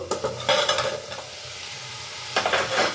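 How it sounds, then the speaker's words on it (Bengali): Ridge gourd curry being stirred in a pan with the lid off, a close scraping spoon against a steady soft sizzle, a burst of stirring at the start and another near the end. "আমি চাপা খুলে করে আরো 2-3 বার নাড়িয়ে দিয়েছি।"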